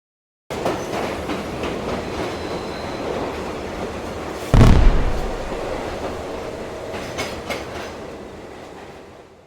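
A train rumbles past with steady clattering wheels, a loud burst of noise midway, then gradually fading as it moves on.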